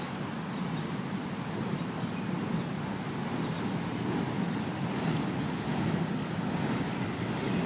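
A train rumbles past at close range, a loud, continuous roar of rolling wheels and rail noise with faint clatter, steady throughout with no talk.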